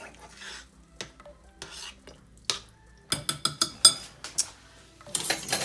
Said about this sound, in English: I want to get all this mixed together first.